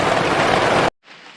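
Heavy rain pours on and around a teardrop trailer on a humid day, a loud, dense, steady hiss that abruptly cuts out and then returns fainter and more distant.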